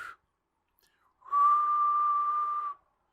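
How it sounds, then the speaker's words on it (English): A single whistle kept on top of a printer is blown once as a prop, giving a steady, bright tone that holds for about a second and a half after a brief silence. "I need to get a prop, like a whistle that I keep here on top of the printer."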